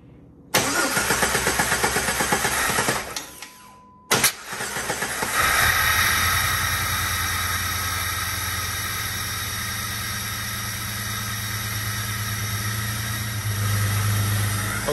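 A Jeep 4.0 engine cranks and fires after a fuel injector replacement, briefly stumbles and cuts out, then restarts and settles into a steady, close idle with a smooth mechanical hum and no voices.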